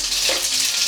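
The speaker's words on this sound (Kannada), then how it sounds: "ಸ್ವಲ್ಪ ಬಾಣಲಿಗೆ ಎಣ್ಣೆ ಹಾಕಿ ಸಾಸಿವೆ ಮೆಣಸು ಒಗ್ಗರಣೆ ಮಾಡಿ." Mustard seeds and dried red chillies sizzle in oil in a pan for a tempering, making a loud, continuous hissing crackle with one faint knock partway through.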